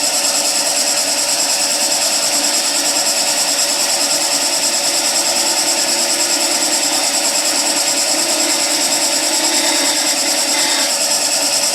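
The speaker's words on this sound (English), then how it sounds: "Planing cut, long point up." A woodturning lathe takes a planing cut with a skew chisel, long point up, giving a steady, loud hissing shave over the motor's hum, unbroken and without talk.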